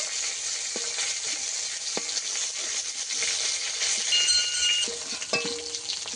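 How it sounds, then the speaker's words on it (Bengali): Fish heads sizzle as they fry in hot oil, giving a loud, steady crackle with occasional scraping stirs and faint utensil clinks near the pan, and no talking. "এই যে মুড়োগুলো ভেজে নিয়েছি ভালো করে, ভেজে নেব।"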